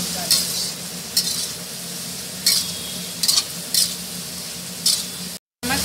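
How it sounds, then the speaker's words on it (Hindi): Hakka noodles seasoned with chaat masala being stir-fried in a pan, a steady sizzle broken by about six short, sharp scraping strokes of a spatula, with a brief dropout near the end. "थोड़ा भून लेंगे, फिर इसमें हम सॉस और सोया सॉस डाल।"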